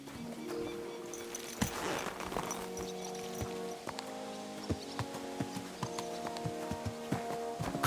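A horse walking in Kingdom Come: Deliverance II, steady clip-clop hoofbeats on a road, fairly close and regular, over a low ambient background and a soft musical tone.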